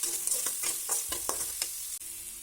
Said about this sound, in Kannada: ಹಾಗೆ ತುಂಡು ಮಾಡಿಟ್ಟಂತಹ ಈರುಳ್ಳಿ, ಹಾಗೆ ಹಸಿಮೆಣಸಿನಕಾಯಿ ಹಾಕಿ ಚೆನ್ನಾಗಿ ಫ್ರೈ ಮಾಡ್ತಾ ಇದ್ದೇನೆ.